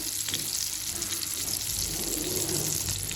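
Chicken kebabs shallow fry in a little oil, giving a steady, close hiss and crackle of sizzling that runs evenly throughout with no speech.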